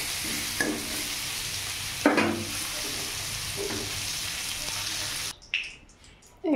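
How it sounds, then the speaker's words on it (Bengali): Potato pieces seasoned with salt and turmeric frying in a pan, a steady close sizzle broken by a few stirring scrapes, then a sudden quieter stretch. "এবার এখানে ওই আলুটা ভাজছি"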